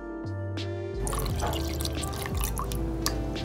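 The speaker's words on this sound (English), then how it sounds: "We're gonna pour in the coconut milk," Coconut milk is poured into a bowl of whisked whole eggs for a homemade hair treatment: a steady liquid pour with drips, heard close over a continuous tonal background hum.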